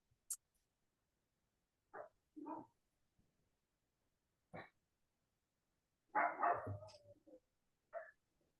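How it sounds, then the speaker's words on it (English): A dog barks in scattered single woofs and a short cluster, fairly close, with silent gaps between barks. "my dog is barking"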